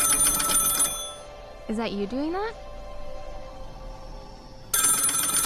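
A video game telephone rings in a bright electronic trill at the start and again at the end, with a short warbling sound between the rings and a voice talking over the quiet middle.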